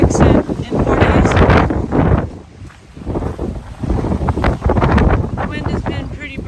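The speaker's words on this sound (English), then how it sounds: "The wind has been pretty brutal." Strong gusty wind buffets the microphone while hiking the Pacific Crest Trail north of Tehachapi, a loud roaring rumble that briefly eases and then surges again, with a voice talking through it.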